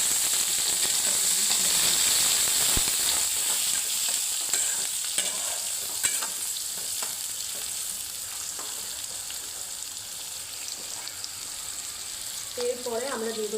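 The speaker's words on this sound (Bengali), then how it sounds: "এইভাবে আমরা পেঁয়াজগুলো লাল লাল করে ভেজে নেব।" Onions frying in a pan until reddish for a Bengali chili chicken, a loud, steady hissing sizzle with occasional spatula scrapes, and a faint voice briefly near the end.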